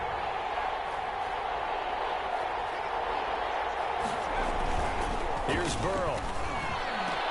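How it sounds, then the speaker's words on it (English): A dense, steady roar from a stadium crowd in a PS4 football video game, building ahead of a big third down, running loud and continuous beneath an announcer's commentary. "the crowd getting into it as we come up on a big 3rd down"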